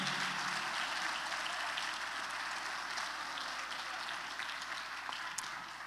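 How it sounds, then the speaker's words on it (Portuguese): Sustained applause from a church congregation, a steady dense wash of many hands clapping together at even loudness throughout, no voices standing out. "Aleluia, aplauda Jesus"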